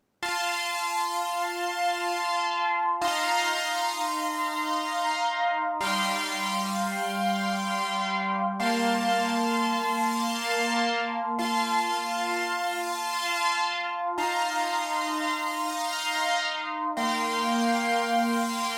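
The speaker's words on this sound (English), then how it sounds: "For this track, I used the Matrix 12 plugin from Arturia." Arturia Matrix 12 plugin synth pad with a sharp, bright digital sweep, a series of sustained chords each starting abruptly and holding steady before the next, loud and continuous without voices.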